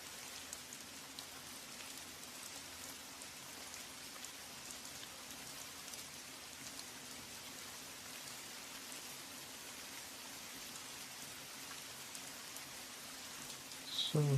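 Steady rain falls outdoors in a continuous soft hiss, even and unbroken for the whole stretch, with a brief louder bump near the end.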